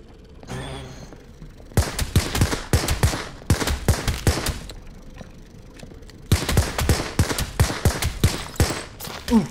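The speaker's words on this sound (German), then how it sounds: "Die Schüsse kommen von da." Bursts of rapid gunfire in the video game Hell Is Others, two long volleys of repeated sharp shots separated by a quieter pause, loud and close, with no speech.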